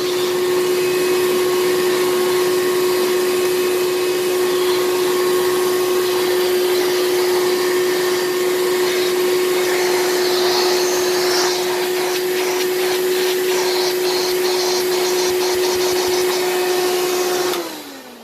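A Hoover Caddy Vac U5110-900 vacuum cleaner runs loud and steady with a constant motor whine, then shuts off and winds down at the very end, with no talking.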